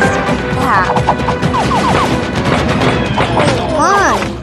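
Gunfire and crashing impacts from a shooting video game run continuously as loud, dense bursts, with voices talking over the clamour throughout.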